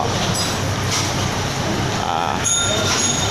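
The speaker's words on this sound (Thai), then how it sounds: "รถขบวนที่ 421นะครับ จากนครราชสีมาขบวนนี้ไปอุบล เข้ารางที่ 2 นะครับ" Train no. 421 from Nakhon Ratchasima pulls into Surin station in Thailand, a steady loud rumble of rolling wagons with high wheel squeals rising near the end.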